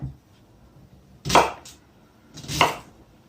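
Two sharp, close knife chops go through an onion on a board, spaced about a second apart, against a quiet background.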